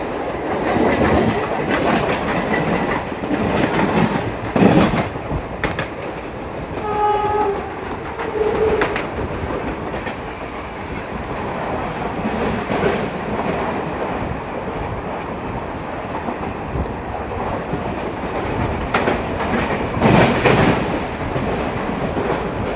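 A Mumbai suburban local train bound for Dombivli runs with a loud, continuous rumble and clatter of wheels on track, a brief horn blast near the middle, heard close from inside or beside the moving train.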